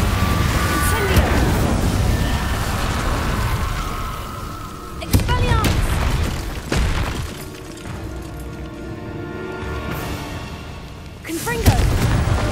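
Fire spell blasts in the video game Hogwarts Legacy, with a loud booming burst near the start and further sharp whooshing impacts around the middle and end, set against a dense game soundtrack and mixed under a speaking voice.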